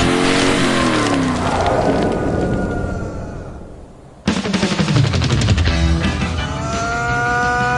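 A car speeds toward a cliff edge, its roaring engine and rushing wind filling the scene, then a sudden loud crash-like burst of rattling noise and rumble takes over.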